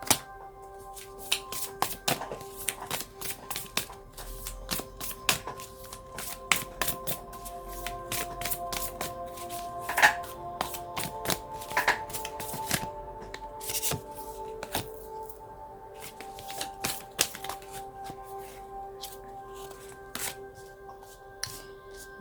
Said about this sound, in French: je vais laisser les cartes tomber